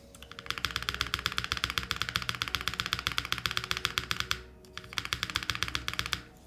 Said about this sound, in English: let's listen to the spacebar